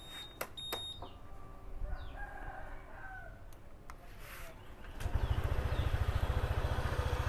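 A used motorcycle idles smoothly during a showroom inspection, its steady low pulsing rumble starting partway through and continuing to the end, close and loud. A rooster crows faintly in the background before the engine sound begins.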